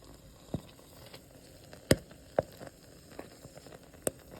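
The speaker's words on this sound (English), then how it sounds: "That's the cranberries popping." Cranberries cooking in a pot give off sparse, sharp pops and cracks at irregular intervals over a faint background hiss, close up, with no voices.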